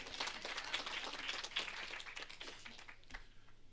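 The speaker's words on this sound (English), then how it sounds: "They deserve a round of applause." Applause from an audience at a regional State of the Region address in Hardap Region, Namibia, fairly quiet and distant, a sustained patter of clapping that thins out toward the end.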